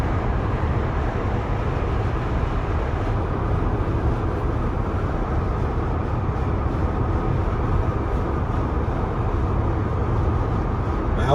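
A car drives through Abuja, Nigeria, its steady road and engine rumble filling the cabin in a continuous broadband roar with no clear breaks or talking.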